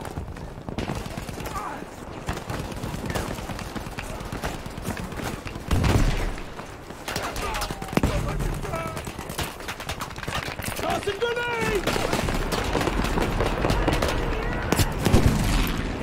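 M1919SX machine gun firing in Battlefield V multiplayer on Iwo Jima, sustained rapid automatic bursts with booms in a busy battle mix, voices heard over the shooting.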